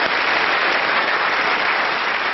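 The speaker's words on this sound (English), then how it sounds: "Round of applause for Alice." A television studio audience claps continuously in dense, even applause, loud and close, without any voices.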